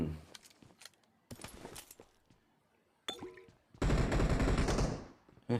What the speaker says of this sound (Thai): เสียงปืนข้างหลังครับ